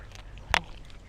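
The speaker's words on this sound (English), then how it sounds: "Oh my god, there's ducks." A single short duck quack rings out once against a soft outdoor background hum.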